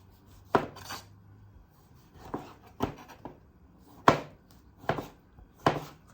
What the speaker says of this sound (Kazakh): Қызанағымызды майда кубик етеміз.